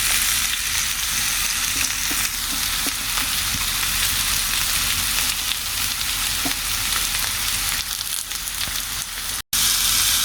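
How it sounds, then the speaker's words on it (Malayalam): Onions sautéing in oil in a pan for Turkey pathiri, a loud, close, continuous sizzle with faint stirring scrapes throughout, briefly cutting out near the end. "കുറച്ചും കൂടെ എണ്ണ ഒഴിച്ച് നമുക്ക് സവാള വഴറ്റിയെടുക്കാം."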